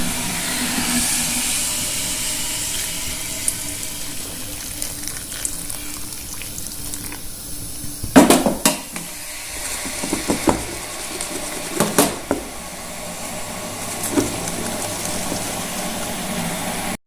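Hot water runs and hisses as dried hilsa fish pieces are washed in a kitchen, with a steady splashing stream at first, then clunks and knocks of handling the pieces.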